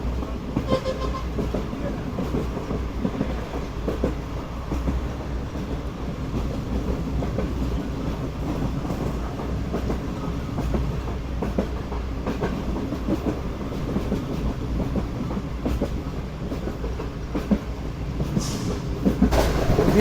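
The Pak Business Express passenger train rolls along the track with a loud, continuous rumble and rhythmic clatter of the wheels, heard from on board, while a voice talks over it throughout.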